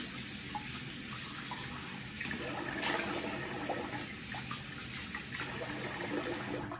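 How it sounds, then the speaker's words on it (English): Running water from a tap splashes steadily as a face is rinsed after a wet shave, a continuous close gush with small splashing variations and no talk. "So let me rinse the face."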